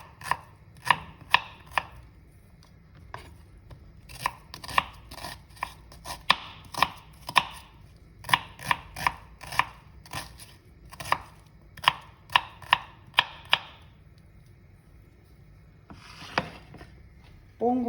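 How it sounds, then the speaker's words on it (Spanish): Onion chopped with a knife on a board, a close series of sharp taps in quick bursts separated by short pauses, ending with a single rustle. "Procedo a picar la cebolla"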